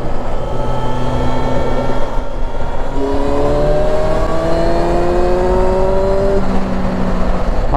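Motorcycle engine on a test ride, a loud continuous drone with rising harmonic sweeps as the revs climb mid-ride, steady under wind noise with no talk.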